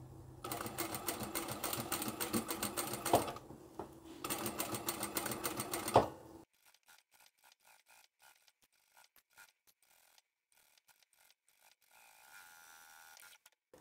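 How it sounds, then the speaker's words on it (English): A sewing machine stitches slowly around the curve of an insulated drink bottle holder in two close, rapid bursts, then falls quiet apart from faint handling clicks and rustles. "When you come to the curve, just sew slowly"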